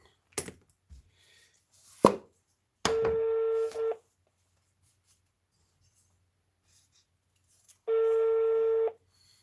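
A telephone number being dialed on a handset. A few sharp button clicks are followed by two separate steady, buzzing electronic tones, each lasting about a second, close and clear with no speech.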